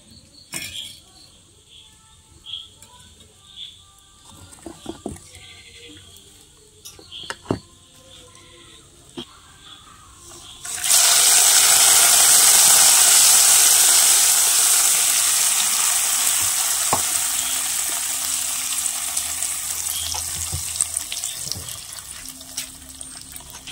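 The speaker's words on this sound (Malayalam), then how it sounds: "അപ്പോൾ ഇതിനകത്തേക്ക് കടുക് ചേർത്ത് കൊടുക്കട്ടെ." Mustard seeds hit hot oil for Kerala beetroot pachadi, bursting into a loud, sustained sizzling hiss that starts abruptly midway and slowly eases, after quieter kitchen clatter.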